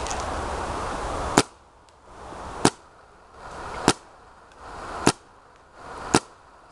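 A Planet Eclipse Geo 2.1 paintball marker fires five sharp, loud pops at an even pace about a second apart. A hissing rush swells between each shot.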